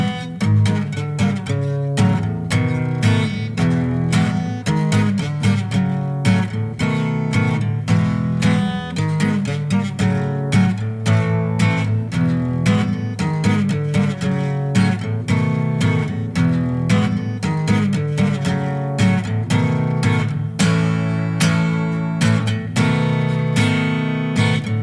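Acoustic guitar plays the verse of a song, dense steady strummed chords with bass notes throughout, loud and close with no talking.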